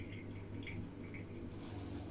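Water runs and splashes into a baby's bath in a continuous steady stream, close by, with no voices.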